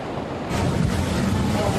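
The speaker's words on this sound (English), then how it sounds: "Here on Maui, we've got at times some heavy surf, we've got some heavy rain once in a while, and some wind gusts" Heavy surf and gusting wind on Maui during Hurricane Lane, a broad roaring wash with microphone wind buffeting that swells louder after the first half second and stays steady.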